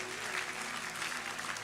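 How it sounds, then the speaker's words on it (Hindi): An audience at a Christmas celebration claps to glorify the Lord, a dense, continuous wash of applause from many hands that holds at an even level throughout. "ताली बजा के प्रभु को महिमा दो"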